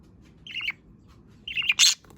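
A budgie gives two short bursts of bright, close chirps against a quiet background hum.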